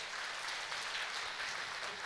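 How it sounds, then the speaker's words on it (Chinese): Applause from an audience at a sales meeting for a company's products, a dense, even wash of many hands clapping, heard from a distance and fairly faint, with no voices over it. "我们给自己一个热情的掌声"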